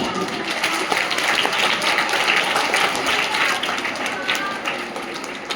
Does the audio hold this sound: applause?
yes